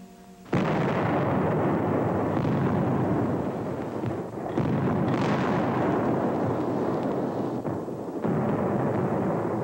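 Cannons fire in the Civil War bombardment of Fort Sumter: a barrage of heavy, rumbling booms rolls on almost continuously, with a few brief lulls between volleys.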